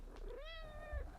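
A house cat gives a single clear, drawn-out meow close to the microphone, rising and then falling over about half a second in an otherwise quiet room.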